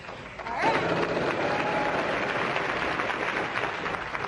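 Studio audience on a Wheel of Fortune game show claps steadily, a dense, even wash of applause that swells in after a brief pause and holds, moderately loud and without talk.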